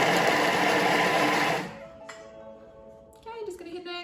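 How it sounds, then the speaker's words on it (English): A Thermomix chops a quartered brown onion at speed 5: a loud, steady whirring blade roar for about a second and a half, then it stops abruptly, leaving quiet background with faint clinks and a few beeps. "we are going to chop for 3 seconds to speed 5"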